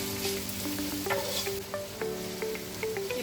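Onions frying with salt in a pot for beef biryani, a steady close sizzle with occasional stirring scrapes and light clinks of a utensil, no talking.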